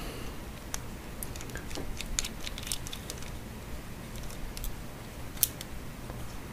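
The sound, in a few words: Phillips screwdriver removing screws from a radio board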